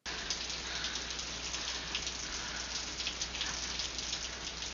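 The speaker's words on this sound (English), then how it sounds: "it's pouring rain outside." Steady heavy rain pours down in a dense, continuous hiss, with no voices and no letup.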